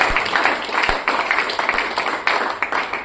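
An audience at a DXN seminar bursts into sustained applause, many hands clapping in a dense, loud, roomy wash with rhythmic swells, and a few distinct sharp claps standing out.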